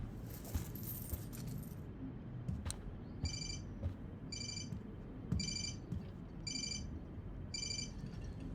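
Keys jangle briefly in the video game Life Is Strange, a short metallic rattle at the start. A series of evenly spaced electronic chimes follows and repeats five times.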